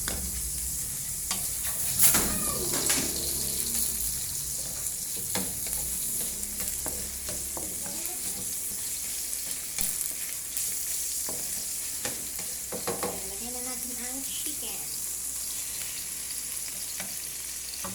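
Chicken pieces hit a hot pan and fry for a Filipino home-cooked supper, with a steady loud sizzle and repeated clattering stirs and scrapes of a utensil throughout, and no voices.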